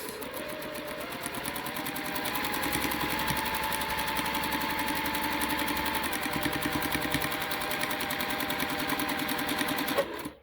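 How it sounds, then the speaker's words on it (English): A sewing machine runs a quilt block seam straight across, giving a continuous close mechanical whir with rapid rhythmic needle ticking that holds steady for about ten seconds and then stops abruptly. "Just stitch it all the way across."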